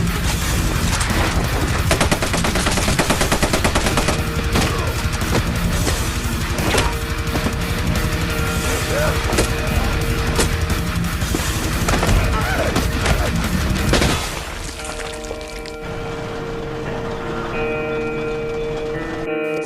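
Rapid, dense gunfire crackles and booms continuously, loud and chaotic, then cuts off abruptly into a quieter tense backdrop.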